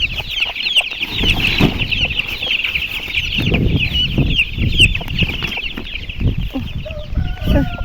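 Constant peeping of many chicks with low clucking underneath, steady and close, amid a rustling, pattering background of rain on an old plastic cover sheltering them.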